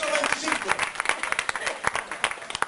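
Lively applause from a church congregation during a Sunday sermon, with distinct individual claps standing out in an uneven patter, close and fairly loud, with murmuring voices mixed in.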